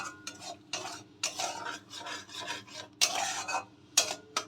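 Rice stir-fried with spices in a pan for a potato and pointed gourd curry, heard as irregular scraping and rubbing bursts of a spatula against the pan with a faint sizzle beneath, close and without speech.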